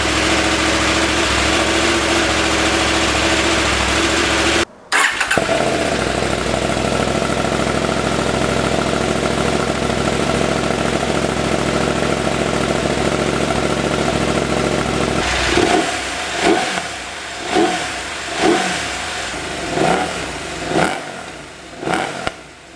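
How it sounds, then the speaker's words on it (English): KTM 790/890 Adventure motorcycle with the catalytic converter deleted from the mid pipe, loud and close, idling steadily for about fifteen seconds before a string of six or seven sharp throttle blips with brief pauses between them. "It's a little bit harder to read when I'm revving the engine because it can fluctuate"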